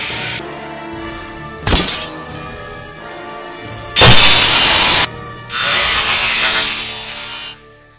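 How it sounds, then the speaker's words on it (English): A chainsaw trap roars in a Scooby Gang horror video game in loud, harsh bursts, one short, one long and intense, then another sustained stretch, separated by quieter gaps. "I am about to hit the chainsaw."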